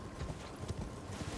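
Horse hooves in the video game Elden Ring, a quiet, muffled clip-clop of a trotting steed repeating in a steady rhythm under soft ambient game sound.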